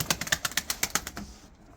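Pigeon wings flap inside a coop in a quick run of about ten sharp, close clapping beats that fade out after about a second.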